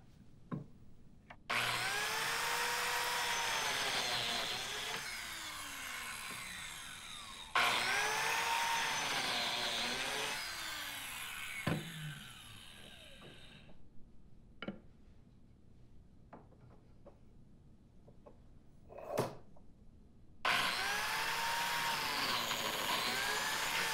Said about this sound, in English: I'm using biscuits with a plate joiner.